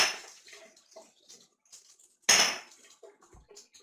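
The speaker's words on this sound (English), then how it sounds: "I'm going to rinse off my weights right away so that nothing dries on." Fermentation weights are rinsed under running tap water, with short intermittent splashes and one louder burst of flowing water, close by with small knocks in between and no talk.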